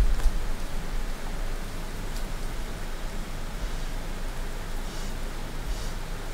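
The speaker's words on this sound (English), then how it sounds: "it is really raining out" Steady rain hisses in a broad, even wash of noise, with occasional faint drops and rustles standing out.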